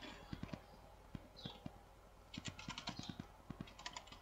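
Close, faint keystrokes on a computer keyboard while a Windows repair command is entered, coming in uneven bursts of quick clicks with short pauses between them.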